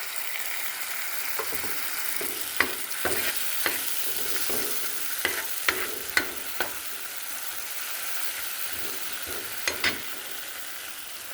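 Mustard-poppy spice paste with chili powder and salt fries for a chiti crab curry in a village kitchen, a soft steady sizzle punctuated by sharp, irregular spatula knocks against the pan, without talk.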